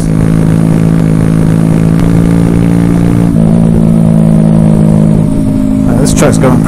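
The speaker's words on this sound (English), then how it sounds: "This truck's going crazy" Truck engine running close by, a loud continuous rumble with steady low drone and a shift in pitch midway, ending with a brief higher rattle; constant and dominant throughout.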